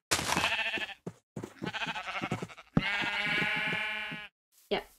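Sheep bleating in the video game Minecraft, three loud close bleats separated by short pauses, with a faint fourth at the end.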